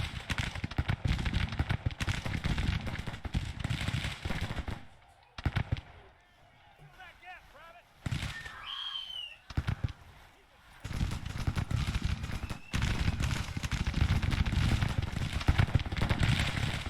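Battle gunfire in the Grand Tactician strategy game crackles in dense, rapid volleys like firecrackers, loud and sustained. It drops away briefly in the middle before surging back to a continuous rattle.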